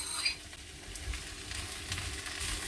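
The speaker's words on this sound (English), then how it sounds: "Add in our onions and our peppers. You want to saute there." Onions, peppers, broccoli and mushrooms stir-fry in olive oil in a pan for a beef stir-fry, giving a soft, steady sizzle with faint scraping of stirring and a sharper clack right at the end.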